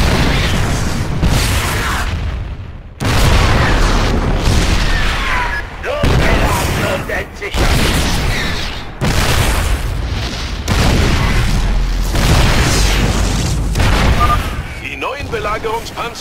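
Siege tanks in StarCraft II shelling Protoss cannons from long range: a loud, steady run of heavy booms and blasts, one after another, over constant battle noise with voices at times.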